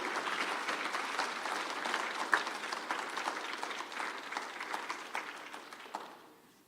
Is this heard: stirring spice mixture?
no